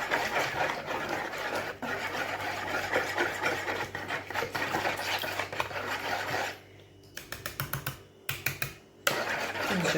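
An electric kitchen mixer blending cake batter gives a steady, close whirring drone. The motor cuts off after several seconds, leaving scattered knocks and clatter.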